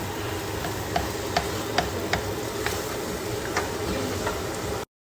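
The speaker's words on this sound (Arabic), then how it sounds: "حمر البصل" Onion browning in olive oil for chicken sandwiches, a steady soft sizzle with a few light clicks and stirring taps, moderately close and uninterrupted by talk before cutting off abruptly.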